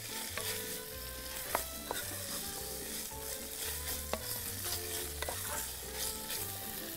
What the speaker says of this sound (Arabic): هلا الدجاج قلبه شوي تي بس يصير على بياض